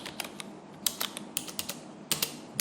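Fingers tap on a computer keyboard in quick irregular bursts of crisp clicks, close and fairly quiet with no talk, while data is entered into accounting software.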